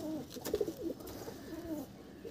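Pigeons in a Madras pigeon loft give several soft, low cooing calls in short rolling phrases, close by, with faint background rustle.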